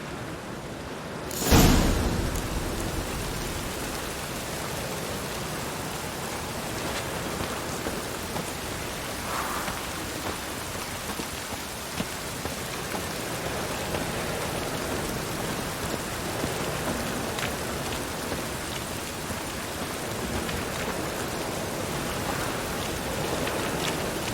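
Steady rain hisses throughout a video game scene, a dense, even wash of falling drops with a sharp crack near the start, likely thunder, and no voices.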